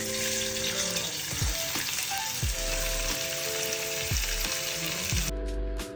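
Sliced onions fry in hot oil with fennel seeds in a pan. The sizzle is loud and continuous, and the spoon makes periodic scraping stirs about once a second.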